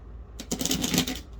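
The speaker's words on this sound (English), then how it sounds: "Okay, so I'm going to shuffle a couple times real quick." A new, stiff Alice in Wonderland playing-card deck being shuffled, a single quick, close riffle of flapping cards lasting about a second.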